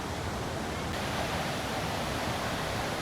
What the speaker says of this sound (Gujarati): વોટરફોલ જુઓ, ખાસી હાઈટ ઉપરથી પડે છે અને મોટું એવું છે